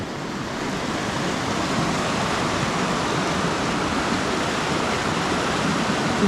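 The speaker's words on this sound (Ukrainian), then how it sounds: "Потічок" A small mountain stream in the Carpathians runs over stones, giving a steady, close, full rushing and babbling wash that holds even throughout with no voices.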